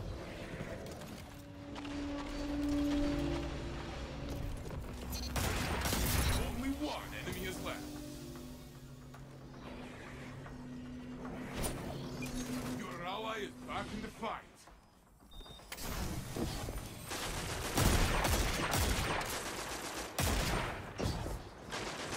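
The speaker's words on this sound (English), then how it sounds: "Bullets everywhere." Bursts of gunfire in a Destiny 2 Crucible match crack in clusters and volleys of varying distance, some loud and near, some fainter, with game voice lines and talk running over parts of it.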